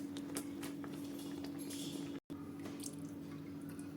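Water dripping and trickling off boiled spinach as it is lifted from a pot of hot water, a run of small close drips and light splashes over a steady kitchen hum.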